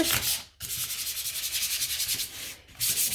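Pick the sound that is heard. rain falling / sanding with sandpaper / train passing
sanding with sandpaper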